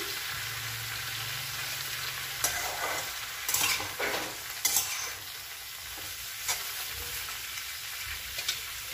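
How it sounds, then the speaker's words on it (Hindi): A radish vegetable dish frying in a pan, with a steady low sizzle and several clattering stirs and scrapes of a utensil against the pan, close and without speech. "इसे हम पाँच मिनट और फ्राई होने देते हैं ढककर"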